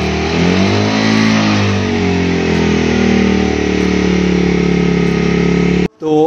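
A 2022 Bajaj Dominar 250 BS6 motorcycle engine revs loud and close above 5000 RPM, holding a high, buzzing drone for about six seconds before cutting off sharply.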